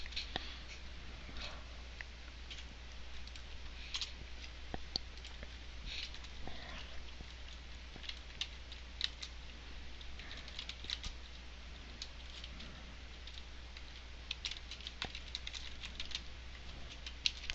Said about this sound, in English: Sorry, I can't talk and type at the same time.